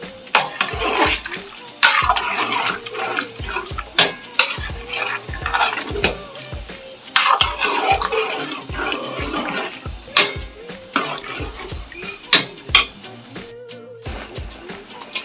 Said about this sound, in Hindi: ये दही ऐड करेंगे। बिस्मिल्लाह। और इसे हम मिक्स कर देंगे।